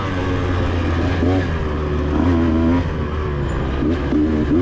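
Motorcycle on a racetrack at Twin Hills in a TCCRA race, engine loud and close with repeated revving swells and shifts as the bike flows through corners.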